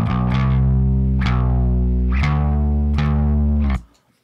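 Distorted electric bass and band in a classic, with the bass stabbing push hits against a steady downbeat kick drum, four loud accented attacks that ring out before the sound cuts off abruptly.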